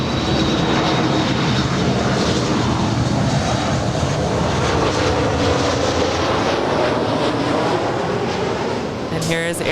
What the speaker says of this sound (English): She's coming. Lufthansa A330.